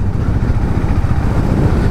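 Hero Mavrick 440 motorcycle engine running steadily in gear at moderate speed, a continuous low, rough drone with no pauses and no voices.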